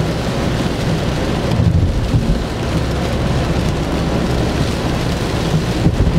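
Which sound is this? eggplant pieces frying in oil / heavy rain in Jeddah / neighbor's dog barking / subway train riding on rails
heavy rain in Jeddah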